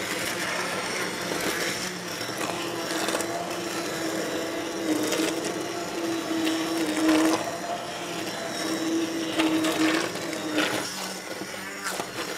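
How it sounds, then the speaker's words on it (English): A steady, loud motorized whirring of an immersion blender running continuously, with a slightly rising and falling pitch as it purees thick tomato sauce. "I have my immersion blender here."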